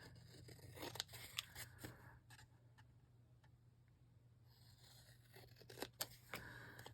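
Good scissors snipping through contact paper in a short run of quiet, crisp cuts and rustles, with a low steady hum underneath and a pause in the middle before more snips.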